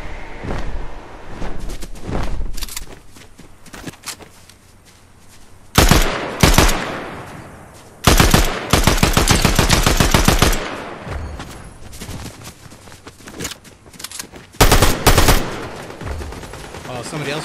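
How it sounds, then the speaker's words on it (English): Gunfire in the video game Fortnite cracks out in loud bursts: a short volley, then a long, rapid automatic stream, and a final burst after quieter gaps, with faint game ambience in between. "Somebody else shooting him now"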